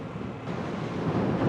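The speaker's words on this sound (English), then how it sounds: "Boy, is it windy. I don't know if you can hear that" Strong wind buffeting the microphone outdoors in Hawaii, a continuous low rumbling roar that builds slightly toward the end.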